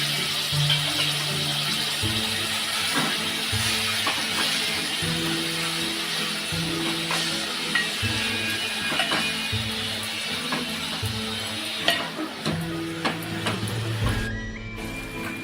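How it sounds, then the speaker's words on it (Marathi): Grated bottle gourd sautéing in ghee in a pan for Maharashtrian dudhi ladoo, a steady close sizzle and scraping stir running throughout with scattered clicks of the spoon, no voices. "याच्यामध्ये आपण टाकणार आहोत हा किसलेला दुधी आपल्याला हा थोडा परतून घ्यायचा आहे"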